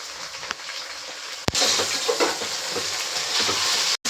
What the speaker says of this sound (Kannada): ಒಗ್ಗರಣೆಗೆ ಪುದೀನ ಮತ್ತು ಕೊತ್ತಂಬರಿ ಹಾಕ್ಕೊತಿದ್ದೀನಿ